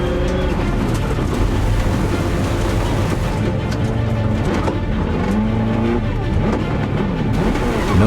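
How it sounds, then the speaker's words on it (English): A rally car on a stage rally spins at high speed after a sharp rock punctures a tire, its loud engine mixed with tire scrub and skidding close by. "contact with a sharp rock results in a flat tire"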